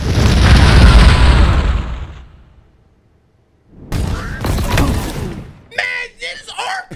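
Grenade blast in a video game, a loud booming explosion with shattering debris lasting about two seconds, then silence before a second burst of noise and clipped, shouting voices.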